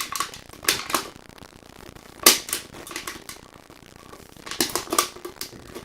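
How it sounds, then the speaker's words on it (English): An ordinary pair of scissors cuts through a thin metal shim made from a soda can, giving sharp, loud crunching snips in irregular bursts, with quieter scraping in between and a tight cluster of cuts at the end. "And now I'm going to take a normal pair of scissors"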